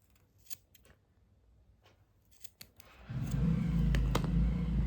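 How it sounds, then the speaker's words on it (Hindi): Scissors snip through loose crochet threads to trim a tassel even, a few quiet crisp cuts in a near-silent room before a louder, steady rustling handling noise takes over. "अब नीचे इन धागों को काट करके बराबर कर लेंगे"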